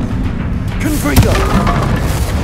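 A Confringo blasting spell detonates in Hogwarts Legacy, a single heavy booming explosion with a sharp impact and a rumbling tail, set against ongoing game sound and a voice.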